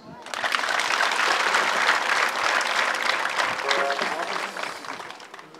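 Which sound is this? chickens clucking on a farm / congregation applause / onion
congregation applause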